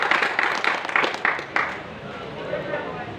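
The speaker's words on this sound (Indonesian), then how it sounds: "Tepuk tangan buat dia." A handful of scattered claps from a church congregation ring out in quick succession near the start, then thin away as a voice carries on talking over a quieter room.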